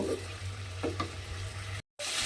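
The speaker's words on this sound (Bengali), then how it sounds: "বেগুনগুলো আমি এর মধ্যে দিয়ে হালকাভাবে জাস্ট একটু নাড়াচাড়া করে দেব।" Fried eggplant pieces are stirred gently in a pan for an eggplant and green pea bhujia, a soft close sizzle under a low steady hum with a few light spatula scrapes, briefly broken by a gap of silence.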